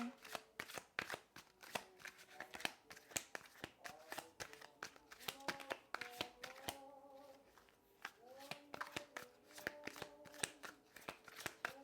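Rapid riffling and snapping of tarot cards being shuffled, close and continuous with brief pauses, a soft voice murmuring underneath.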